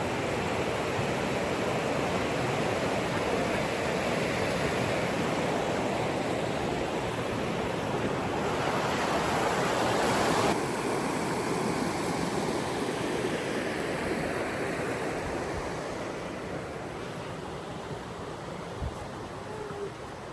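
Whitewater Falls roaring steadily on a cold day along the Foothills Trail, a dense continuous rush of falling water that fills the whole clip, loud and unbroken, easing slightly toward the end.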